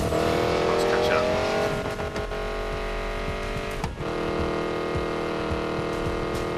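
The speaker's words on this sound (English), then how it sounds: "This car sounds badass though." Racing car engine in the Need for Speed Payback driving game, a steady loud sustained roar with revving harmonics and a brief dip around a gear change, running continuously under character dialogue.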